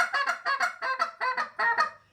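A hand-blown goose call doing the hiccup or donkey call, a quick run of about eight sharp, nasal honks in close paired bursts, loud and near with nothing else heard.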